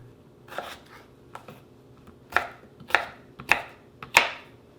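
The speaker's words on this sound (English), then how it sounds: "then slice it into chunks" A knife chops a potato into chunks on a board in uneven strokes, sparse at first, then several sharp cuts in quicker succession.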